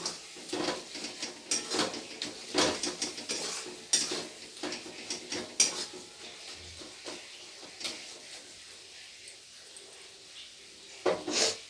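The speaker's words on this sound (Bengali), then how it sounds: "টমেটোগুলোকে একটু এরকম খুন্তির সাহায্যে চেপে চেপে মিশিয়ে দেবো" A spatula presses and stirs softened tomatoes in a pan, giving repeated scraping and clanking strokes over a low sizzle, with brief metallic taps, close and fairly loud, with no talking.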